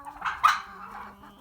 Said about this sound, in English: Oh, there's those chickens.